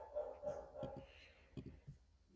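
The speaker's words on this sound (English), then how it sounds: "There's my dog right there, barking." A dog barks a few times at a moderate distance, short sharp yelps in loose clusters under a voice talking.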